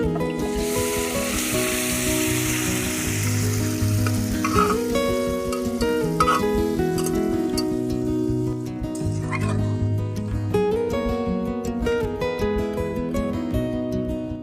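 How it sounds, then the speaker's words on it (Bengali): Pressure-cooked desi duck meat, in a dish made with chui jhal and garlic, sizzles steadily in a wok throughout, a continuous frying hiss sitting under a tonal background backing. "এবার আমি প্রেসার কুকারের মাংসটা কড়াইতে ঢেলে দিব।"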